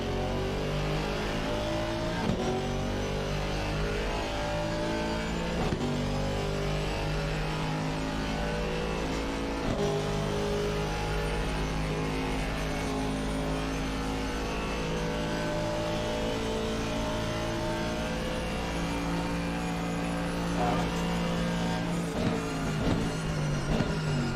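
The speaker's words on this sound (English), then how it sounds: "now DeHuisRocker going defensive into the final corner." GT4 race cars in the Assetto Corsa Competizione racing game roar continuously at high revs. Engine pitch rises and drops sharply with gear shifts and braking through the corners, steady and loud throughout with no voices.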